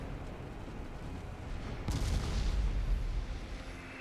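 Naval guns fire in the warship game Ultimate Admiral Dreadnoughts: a deep boom lands midway over a constant low, rumbling battle drone, heard at moderate distance without speech.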